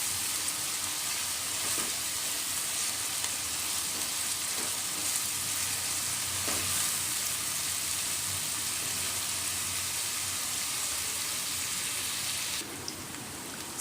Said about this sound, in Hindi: प्याज को हमें लाइटली गोल्डन करना है यहाँ पर।